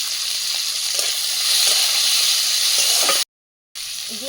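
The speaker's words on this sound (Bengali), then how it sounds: "রসুনটা ভাজা ভাজা হয়ে এসছে এরপর আমি এর মধ্যে দিয়ে দেব পেঁয়াজ কুচি" Garlic and chopped onion fry in oil with a steady, close, hissing sizzle and faint crackles, cut by a brief silent gap before the sizzling resumes.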